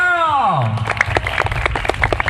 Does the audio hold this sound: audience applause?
yes